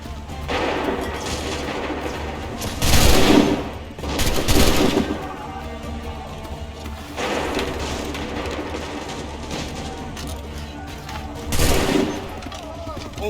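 Musket volleys in Assassin's Creed 3 crack out as loud, crowded bursts of massed fire, three main volleys several seconds apart, over a steady rumble of distant battle.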